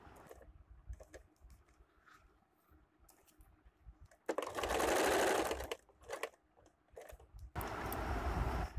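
A sewing machine stitches down the middle of a coat sleeve in two rapid, loud bursts of needle chatter, separated by quieter handling clicks and rustles.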